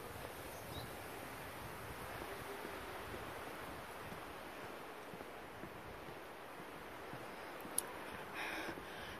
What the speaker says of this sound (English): Oh, the wind is blowing.